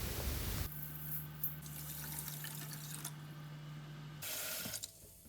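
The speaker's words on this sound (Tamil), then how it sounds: "திணை அரிசியை முதல்ல ஒரு கழுவி" Water runs from a sink tap for a few seconds while millet rice is rinsed for a Tamil sweet pongal, a steady splashing wash with a low hum beneath, then the flow stops.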